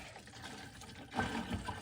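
Colonoscopy prep liquid is poured from a bottle into a container on a kitchen counter, giving a soft, close splashing gurgle that swells partway through against faint background hiss.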